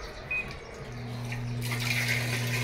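Water starts flowing into a repaired washing machine after it is switched on, a steady low hum joined by a broadening rush of incoming water that grows and holds near and fairly loud.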